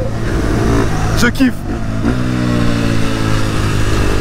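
A KTM 450 supermoto with a four-stroke engine runs loud and close, with a steady engine drone, a brief blip of throttle around the middle, and a voice speaking over it.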